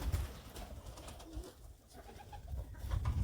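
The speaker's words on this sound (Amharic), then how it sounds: "እርግቦች" Pigeons coo in short low calls at a farmyard pen with sheep, goats and chickens, the soft calls repeating faintly against steady outdoor background noise, with no one talking.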